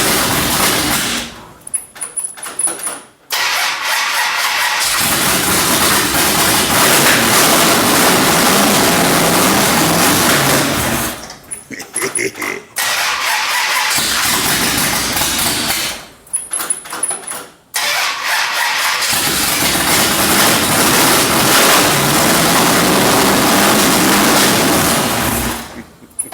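A cold Mopar car engine cranks in several separate attempts with short pauses between them, then catches and runs loud and close, with key and door noises around it.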